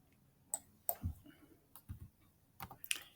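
Computer mouse clicks on an on-screen pencil icon during expense verification, a series of sharp, close, quiet clicks spaced irregularly over a few seconds.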